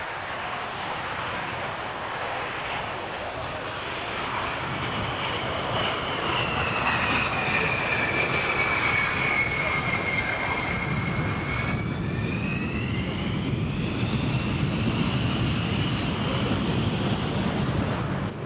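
A military jet performs at the 1997 Mildenhall air show, a USAF and RAF event. Its loud, continuous roar carries a whine that slowly sweeps down and back up, with no voices.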